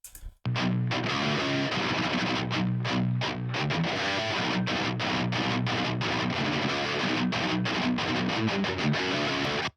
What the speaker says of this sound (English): it's mid-gain, it's almost a crunch sound, and it's way more narrow